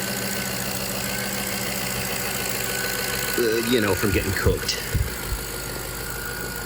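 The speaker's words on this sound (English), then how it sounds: "But it's idling good." A 1998–2003 Jaguar XJ8 V8 idles steadily at a low, even drone, not yet at full temperature, with someone talking over it and some clanking handling noise partway through.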